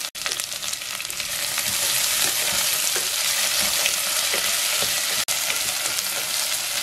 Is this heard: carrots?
yes